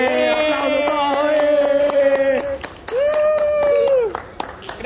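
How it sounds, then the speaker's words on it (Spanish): A small group claps at a home birthday celebration, the sharp rhythmic claps running under loud sustained voices calling out or singing. "aplausos todos"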